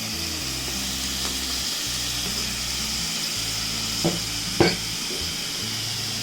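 Tomato, carrot and capsicum sizzle steadily in a pan as filling for Maggi samosas, with a constant frying hiss. A few sharp clinks from stirring stand out near the end, and there is no talk.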